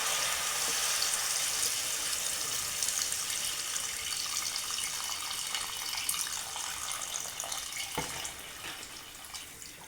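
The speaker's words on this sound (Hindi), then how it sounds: "अब यहाँ पर पानी ऐड करना है।" Water pours into a pot of harira sweetened with jaggery as it cooks, a steady near splashing rush that thins out and quietens toward the end, with a faint clink partway through.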